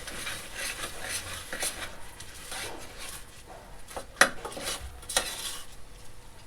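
Sprouts curry made with soaked chickpeas and green gram stirred in a pan, giving a steady soft sizzle and scraping under a few sharper utensil clinks near the end, close and even, without talk.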